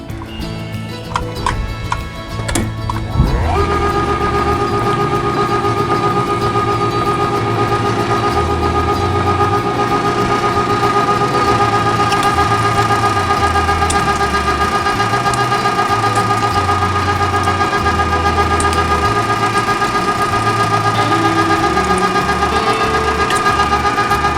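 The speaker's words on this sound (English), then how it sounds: "Let's go ahead and throw it in the meat grinder and see how it does." A Cabela's electric meat grinder grinds a whole pork belly. A few seconds of handling clatter come first, then the motor starts and runs loud and steady, humming close by for the rest of the clip, with no talking.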